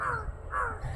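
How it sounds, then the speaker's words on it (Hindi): Crows caw close by, two harsh calls in quick succession. "ये चीज़ें देख रहे हैं यहाँ पे कौवे बोल रहे हैं"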